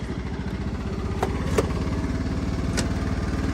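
A John Deere 260 lawn tractor with a hitch loaded with wet sand runs steadily over rough ground, its engine a close, even rumble with a few sharp knocks and rattles.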